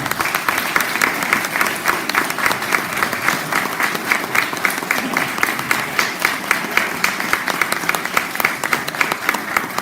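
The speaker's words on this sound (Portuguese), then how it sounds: "E peço uma salva de palmas." Dense, loud applause from an audience at a formal public ceremony sustains evenly for about ten seconds, with no speech on top.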